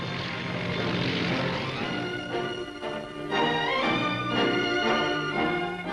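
Propeller-driven aircraft at the 1959 Farnborough flying display, a steady loud engine drone with rising and falling tonal whine as planes pass, continuous throughout with no voices.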